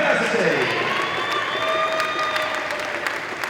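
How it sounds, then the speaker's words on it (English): Spectators at a university men's volleyball championship final applaud the Durham runners-up during a medal presentation, with sustained, dense clapping and some cheering in a large hall while an announcer talks over it. "Give them a round of applause."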